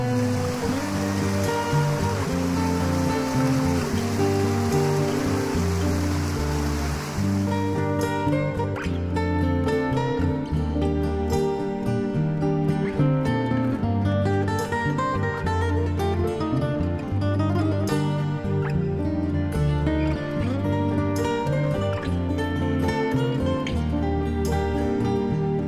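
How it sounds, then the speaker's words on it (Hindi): The Pin River rushes past freezing ice in Spiti's Pin Valley, a continuous, full flowing-water roar with no voices, steady throughout. "पिन नदी के किनारे इस बहते हुए पानी और जमती हुई बर्फ की जुगलबंदी"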